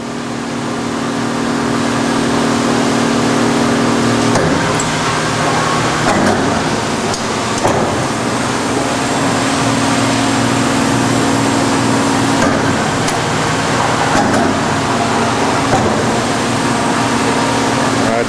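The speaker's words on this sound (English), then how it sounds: "Machine goes through a full cycle, returns to the top and stops." A Colonial vertical surface and internal broach, model RP4-24, runs a full stroke cycle: a steady mechanical hum with shifting tones, a clunk partway through as the ram changes direction, and someone talking over the drone.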